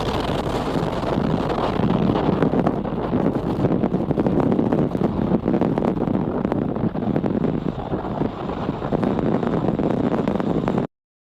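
Falcon 9 rocket engines roaring just after liftoff, a loud, steady, rumbling broadband roar with crackle that holds for about eleven seconds and then cuts off abruptly.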